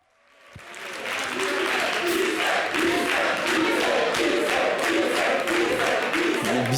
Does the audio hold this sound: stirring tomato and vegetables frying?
no